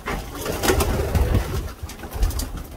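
Racing pigeons coo in a breeding loft, soft low throaty calls close by and repeating through the moment, mixed with faint shuffling and wing movement and no speech.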